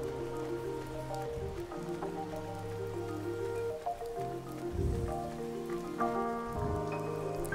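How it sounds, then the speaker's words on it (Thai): Steady rain falls in the Blue Reflection role-playing game on PS4, a constant patter running evenly under layered background music for the whole stretch. "โอ้ฝนตกจะไม่มีใครยืนอยู่ข้างนอกใช่วันนี้เป็นวันที่ฝนตก"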